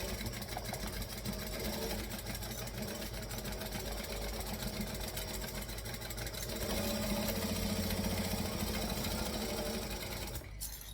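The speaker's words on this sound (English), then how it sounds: "we're gonna stitch with a 1/4 inch seam allowance" A sewing machine running a 1/4 inch seam, a continuous close, loud whirring hum with fast even stitching that holds steady for the whole stretch before a brief clack near the end.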